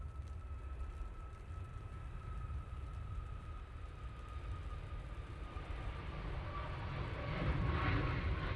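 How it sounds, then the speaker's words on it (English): A Ryanair airliner departing Manchester Airport for Milan gives a steady, distant engine rumble that swells slightly louder near the end, with no talk over it. "next out we have a Ryanair going off to Milan"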